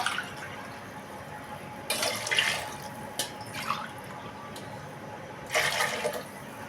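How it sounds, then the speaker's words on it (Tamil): Three tumblers of plain water go into a pot of rice and coconut milk for chickpea biryani, faint splashing pours in a few separate bursts with quiet gaps between. "மூணு டம்ளர் பச்சை தண்ணி ஊற்றிருக்கேன்."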